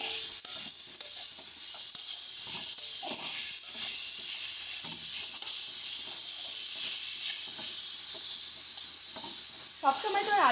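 Cabbage sizzles steadily as it fries in a pan, with repeated scraping and stirring strokes through the hiss, close and moderately loud, without talk.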